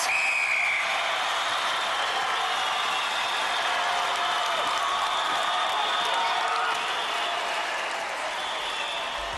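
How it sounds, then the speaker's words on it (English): A television studio crowd at a 1993 Gladiators tilt-table contest applauds and cheers in a dense, constant roar that holds steady throughout, with a faint whistle early on. "The crowd love it!"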